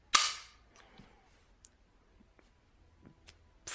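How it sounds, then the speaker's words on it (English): An HK P30sk V3 pistol is decocked while its safety is on, giving one sharp, close metallic snap, followed by near silence with a few faint small clicks of handling. "you can decock the pistol with it still on safe"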